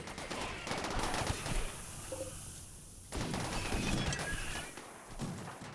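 Heavy, booming steel mortar shots firing EMP shells in the Rimworld video game, with two long, dense bursts of blasts and rumble and a brief lull between them, loud and without speech.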